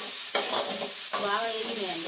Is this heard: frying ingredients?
yes